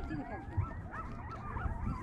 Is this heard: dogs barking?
yes